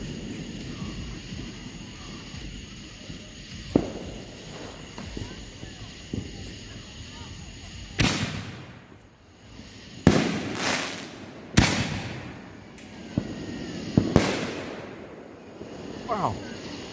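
Vivid/Skyking Neon Serpent 5 inch canister shell fireworks burst outdoors, several sharp, booming explosions spaced a few seconds apart over a steady background hiss, with voices talking between blasts.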